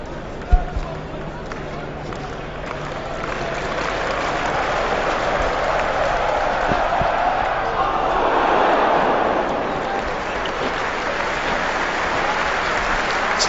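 A large cricket crowd at an England versus India test match in 2007 applauds and cheers in a sustained, swelling roar that peaks briefly, with commentary talk running over it.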